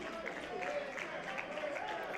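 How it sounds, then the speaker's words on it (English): Wrestling crowd applauding during a ring entrance for Winter at an FWE No Limits event, a steady wash of distant clapping and cheering filling the hall with a faint announcer's voice beneath. "What an ovation for Winter."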